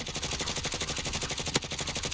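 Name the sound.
gunfire in a video game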